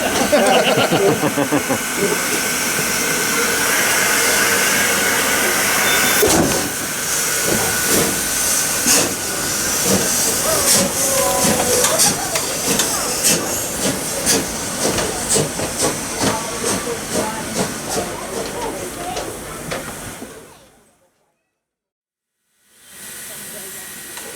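Loud, steady steam hiss from a German steam locomotive at Beekbergen, Netherlands, fills the air with intermittent mechanical clanking and voices nearby, then cuts off abruptly into brief silence before resuming.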